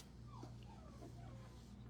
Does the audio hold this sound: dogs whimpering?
yes